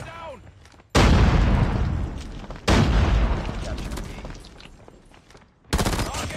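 Rapid bursts of unsuppressed automatic gunfire in a Call of Duty-style shooter match, three loud, dense volleys that decay into reverberant rumble between them.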